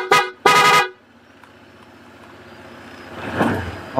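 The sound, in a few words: scooter horn honking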